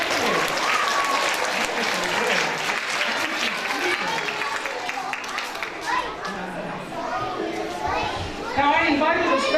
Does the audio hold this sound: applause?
yes